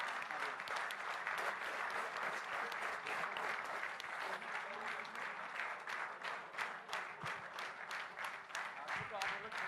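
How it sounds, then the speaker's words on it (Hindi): Sustained audience applause for eight finalists at a youth talk event in Hyderabad, dense steady clapping from a large crowd heard continuously and fairly distant. "हमारे 8 विनर्स के लिए जोरदार तालियां से उनका अभिनंदन करें"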